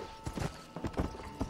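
Horse hooves clip-clopping in the video game Red Dead Redemption, running on Xbox One through backward compatibility, with a few uneven footfalls close up over faint game ambience.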